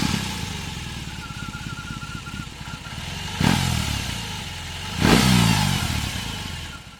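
A BMW R 18 boxer motorcycle engine rumbles steadily with a low exhaust note through its stock pipes, then two sharp throttle blips swell it louder, close by.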